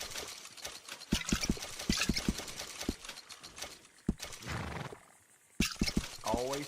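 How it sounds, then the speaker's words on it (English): Horse hooves clip-clop in a rhythmic series of close thuds in Red Dead Redemption 2, followed by a short whinny near the end, with game voices talking at points. "Remember to rest that horse sometime."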